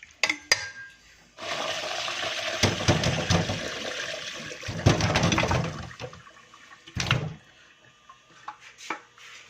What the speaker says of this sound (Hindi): अभी इनमें से पानी को हम निचोड़ लेते हैं।